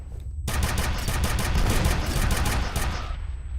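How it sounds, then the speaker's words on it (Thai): Sustained, loud rapid gunfire in F.E.A.R., a dense burst of automatic shots running almost continuously for a few seconds. "ใครยิงปืนโคตรแรงเลย"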